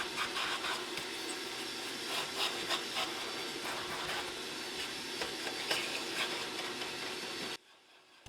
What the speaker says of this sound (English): the first step is to make sure to vacuum everything thoroughly